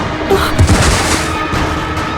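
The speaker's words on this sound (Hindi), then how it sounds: "गोली मार दी," A gunshot in a tense police confrontation, a short heavy boom with a brief rumbling tail, loud and close, alone without speech.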